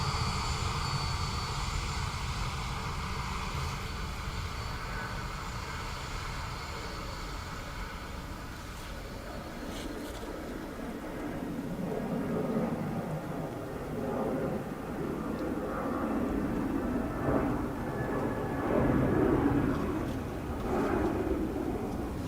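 An Aer Lingus airliner arriving from Berlin at Dublin Airport on a rainy day, its engine roar steady and moderately distant, swelling slightly toward the end amid wet spray and background hiss.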